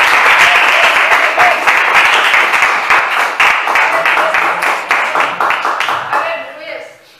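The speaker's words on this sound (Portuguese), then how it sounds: "vamos receber o servo de Deus com as palmas bem alegres" Church congregation clapping joyfully to welcome the evangelist at a worship service, a loud, dense wash of applause that runs continuously before fading out at the end.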